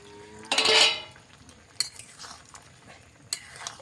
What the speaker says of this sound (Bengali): একবার লাড়াচাড়া করে দিই, ঝোলটা মরাবার লেড়ে নামিয়ে ফেলবো